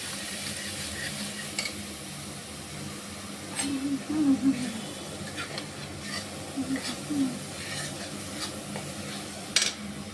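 Masala of coriander, green chilli, salt and turmeric sizzles softly in a pan while a spoon stirs and scrapes at intervals, with a steady low hiss underneath.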